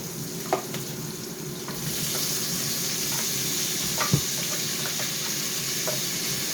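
Chopped tomatoes fry steadily in a pan with a continuous sizzle, while a spoon stirs them and scrapes the pan in scattered taps and clacks. Palm-nut sauce for catfish is being prepared. No voices are heard.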